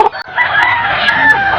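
Chickens cluck and crow steadily right next to a metal tube-pipe coop, the sound of large, fat birds of over two kilos, close and fairly loud throughout with a few sharper peaks.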